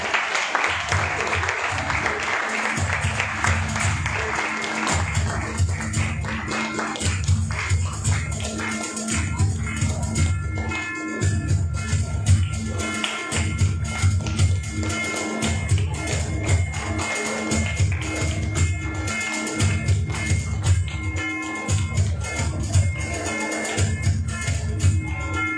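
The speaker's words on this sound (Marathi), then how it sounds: "टाळ्या वाजवायच्या जोरात." Audience claps loudly for a student being honoured at an SSC results event held by a coaching class in Barshi, Maharashtra. Steady clapping runs throughout, over a rhythmic booming bass beat that pulses about once a second.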